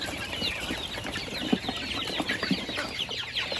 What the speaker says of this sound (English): Let's go find the little chicks. I can hear them.